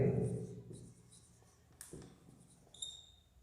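A pen scratches out the Döbereiner triads formula for a Class 10 periodic table lesson, with soft, faint strokes and a few brief taps following a burst of voice at the start.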